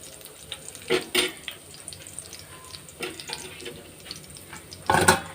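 Curry leaves crackle and spit in hot oil for a Kerala Onam inji puli, with a few sharp bursts of sputtering over a low, steady sizzle.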